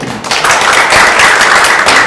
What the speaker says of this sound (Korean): 우리 이영선 학생께도 한번 격려 박수 부탁드립니다